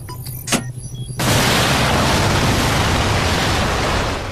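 An SA-6 surface-to-air missile launching, with a brief sharp crack followed by a sudden loud, sustained roaring rush that fills the rest of the clip.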